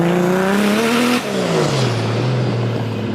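Exhaust note of a car in a personal collection, a loud droning engine tone that rises briefly, then drops in pitch as the revs fall away, steady and close.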